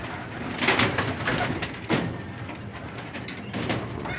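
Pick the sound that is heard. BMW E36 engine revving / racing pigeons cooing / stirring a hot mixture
racing pigeons cooing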